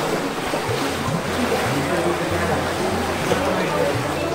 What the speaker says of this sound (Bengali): খুব ঠান্ডা জল যাচ্ছে এখন